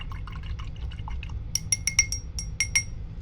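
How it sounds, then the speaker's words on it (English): A paintbrush is rinsed in a glass water jar during acrylic painting, soft swishing water followed by a quick run of bright clinks as the brush taps the glass, close and quiet. "I'm going to wash my brush."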